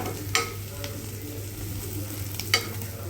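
Vegetables for paneer mutter masala fry in a little oil in a pan, making a soft continuous sizzle with a couple of brief stirring clicks, quiet and close with no talking.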